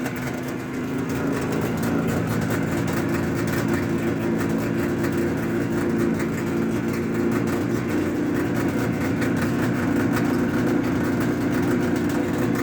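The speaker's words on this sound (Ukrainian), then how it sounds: "Трошки холости великі, але що на холодну." A cold engine, likely a motorcycle or scooter, idles continuously at a fast, high rev with a steady buzzing drone, loud and close throughout, with no talking over it.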